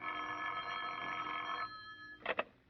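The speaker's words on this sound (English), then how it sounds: "The phone call came at 9:30." An old-fashioned telephone bell rings steadily in a radio drama, a single continuous ring that stops and is followed by two short clicks of the handset, moderately quiet and with no voices.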